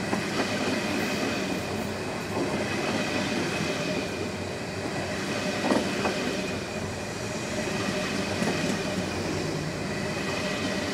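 The Moscow–Nice passenger train, hauled by an EU07 electric locomotive and made up of Russian Railways sleeping cars, passes close by with a loud, steady rolling roar of wheels on rails and faint metallic squeals.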